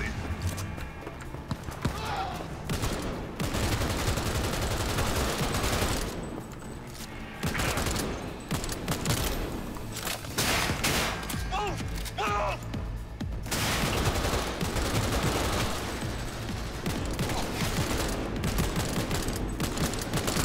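Gunfire in the video game Cyberpunk 2077: dense, sustained bursts of shots and combat noise running almost the whole time, with a speaking voice over the action.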